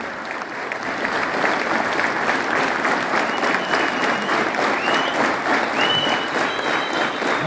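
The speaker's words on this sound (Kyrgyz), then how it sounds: "байкебизге бир кол чаап койсок" Applause from an audience of military personnel at a Defender of the Fatherland Day event honoring a performer, steady close clapping throughout the clip.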